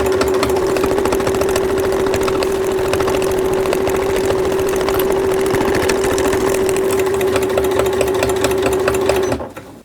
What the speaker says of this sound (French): Et maintenant, je vais faire la surpiqûre pour bien maintenir l'oreille à sa place.